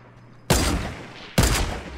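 Video game gunfire from a team on a hill, two sharp loud bursts about a second apart, each trailing off into a short echoing tail.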